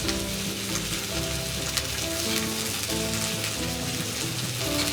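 Cod fillets sizzle loudly in a hot pan with butter and lemongrass while being basted, a dense continuous crackle close up with no pauses and no voices.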